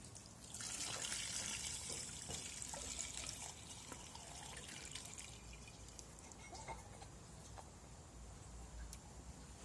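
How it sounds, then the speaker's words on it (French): Cabbage water is poured over chopped, pounded sauerkraut packed into a fermentation vessel, making a steady trickling, splashing pour that runs for several seconds at close range. No one speaks. "Prochaine étape, on verse l'eau de chou."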